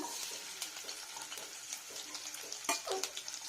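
Chopped onion sizzles and crackles in mustard oil in a pan, a steady close frying hiss with light stirring scrapes and a few sharper sputters.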